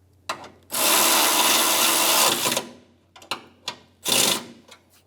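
A power tool snugs down the upper radiator support bolts on a Lexus RX350, running in several close bursts: one long run of about two seconds, then shorter spurts, with brief pauses between them.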